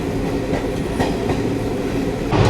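The Nagercoil Express on the Bangalore–Nagercoil line runs along the rails with a loud, continuous rumble and faint rhythmic clickety-clack of wheels over joints, heard up close without pause.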